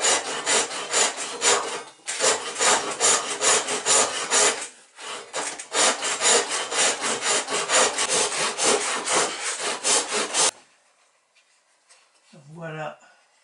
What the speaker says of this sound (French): Je vais débiter une tranche de bois pour faire le tableau.